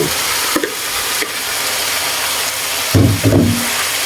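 Eggplant and string beans hit a hot pan with ground pepper and sizzle steadily while being stir-fried, with a few sharp clanks and scrapes of the spatula against the pan, close and loud.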